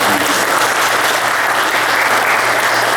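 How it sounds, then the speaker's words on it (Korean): Loud, steady applause from a church congregation during a Korean Sunday service, dense clapping from many hands filling the room without a break. "박수 한번 해주세요."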